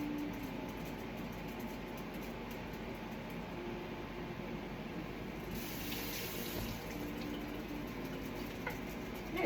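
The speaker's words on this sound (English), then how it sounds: "I will rinse them off one more time before I put them in the freezer" Harvested beets being rinsed under a running kitchen tap, a steady, close rush of water into a sink that continues without a break and carries a faint low rumble underneath.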